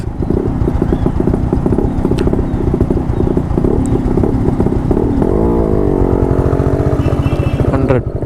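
A Yamaha RX 100 motorcycle engine runs nearby with a loud, throbbing idle, then revs up briefly and settles; road noise and faint voices sit underneath.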